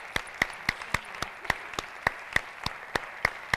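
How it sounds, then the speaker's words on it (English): Regular, evenly spaced hand claps ring out sharply above a soft bed of audience applause after a concert, with the steady single claps standing out near and loud. "I'm going to give my own personal round of applause to these guys."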